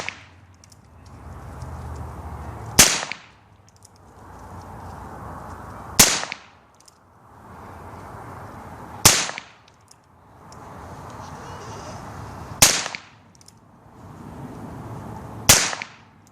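Five sharp, loud gunshots from a Heritage Arms .22 caliber revolver, fired one at a time at steady intervals of about three seconds, each crack followed by a short decay over quiet background.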